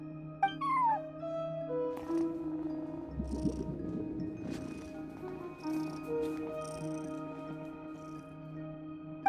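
A cat in Genshin Impact gives a few soft meows and a low purr, set against a steady tonal background hum with faint chimes.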